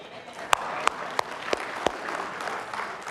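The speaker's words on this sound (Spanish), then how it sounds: "Ustedes merecen un aplauso, iglesia." A church congregation claps along to a pastor's sermon, a few sharp, evenly spaced claps ringing out over a soft bed of scattered applause and murmur.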